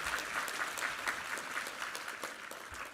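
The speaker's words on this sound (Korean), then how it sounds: "우리 하나님께 감사와 영광의 박수 올려드리겠습니다." A church congregation claps together after a Korean sermon reading, a steady wash of many hands at even volume throughout, with no voices.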